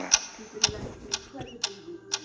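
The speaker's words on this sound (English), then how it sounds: "What is that mysterious ticking noise?" Evenly paced ticking from the game Incredibox, five crisp clicks roughly half a second apart, moderately loud over a quiet low background.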